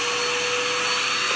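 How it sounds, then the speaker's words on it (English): A small handheld Auric vacuum cleaner runs steadily while cleaning a ceiling duct, giving a close, loud, continuous motor whine with airy hiss and no talk. "Get a little vacuum. I use the Auric Iron Man."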